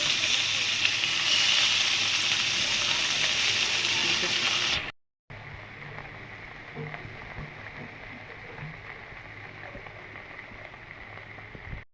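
Small mola fish sizzling in a frying pan, a steady hiss that is loud at first, breaks off briefly, then continues more quietly with scattered pops.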